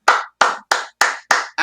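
Clapping for quiz participants at an evening event: six sharp, loud claps in a steady, evenly spaced rhythm, close and clear, with no talking.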